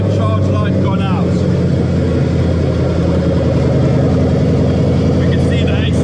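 Toyota 1UZ-FE VVT-i V8 fitted into a Lexus IS200 with a plug-and-play harness fires up and settles into a steady, loud, close idle rumble. A person talks over the running engine.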